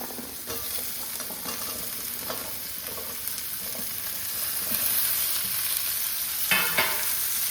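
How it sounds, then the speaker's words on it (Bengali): Sliced drumsticks (sajne danta) frying with spice paste in a little oil in a pan, a continuous close sizzle with intermittent scraping stir strokes, growing slightly louder toward the end, no talking. "এই ডাঁটাগুলোকে ভালোভাবে কষিয়ে নেব এই মশলার সঙ্গে।"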